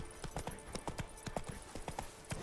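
Horse hooves clip-clopping in The Witcher video game, a steady trotting rhythm of close, distinct hoofbeats with faint background ambience.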